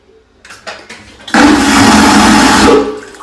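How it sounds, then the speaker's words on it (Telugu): A cruise ship bathroom toilet flushes black waste water, a few small clicks and knocks before a sudden loud vacuum rush that roars steadily for over a second and then cuts off. "ఇప్పుడు బాత్రూంలో ఏదైతే నీళ్ళు ఉన్నాయో ఆ వాటర్ వెళ్ళిపోతుంది, వేస్ట్ వాటర్, దాన్ని బ్లాక్ వాటర్ అంటారు"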